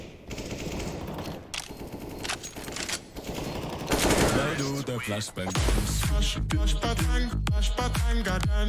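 AK rifle fire in a competitive CS:GO match, bursts of rapid gunshots and a fast rattling volley, loud and close, beneath excited commentators talking.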